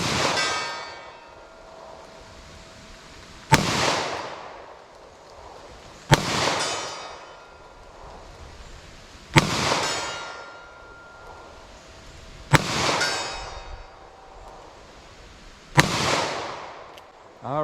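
Five sharp revolver shots from a Ruger LCR snub-nose firing 100-grain .327 Federal Magnum XTP rounds at an outdoor range, spaced a few seconds apart, each a loud crack followed by a long ringing decay.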